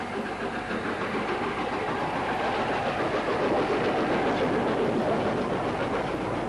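A Gresley Class A4 Pacific steam locomotive, Wild Swan, passes at York in 1960, giving a steady, loud rolling rumble with wheel clatter and hiss that holds without a break.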